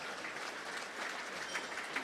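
Audience applause for Fitzy at a WDFNL league event, a dense, even wash of many hands clapping at moderate distance, steady throughout with no speech over it.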